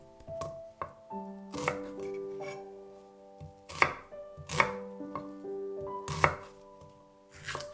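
A knife chops an onion on a cutting board in close, sharp strokes that come in irregular bursts, quiet between cuts, with soft background music and no talking.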